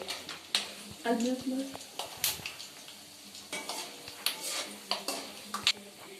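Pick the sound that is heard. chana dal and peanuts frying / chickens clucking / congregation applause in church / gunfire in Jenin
chana dal and peanuts frying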